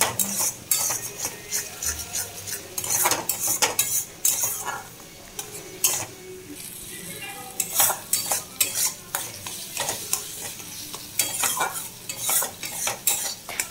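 Fish curry with mustard paste and hilsa being stirred in a pan, loud repeated metallic scrapes and clinks of a spatula against the vessel over a soft sizzle, in uneven bursts.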